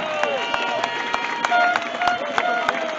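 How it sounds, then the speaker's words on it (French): An audience at a political speech in Mulhouse claps together, a dense burst of many hands with sharp rhythmic beats standing out, loud and close, with some crowd voices mixed in. "je vous propose qu'on remercie cette dame, qu'on applaudisse cette dame"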